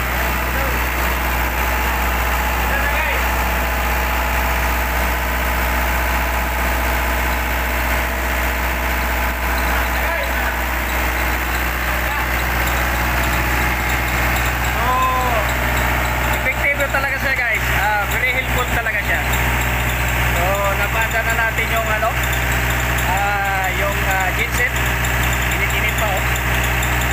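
Car engine idling steadily after being started with a multi-function jump starter, a loud constant low rumble running throughout, with people talking excitedly over it.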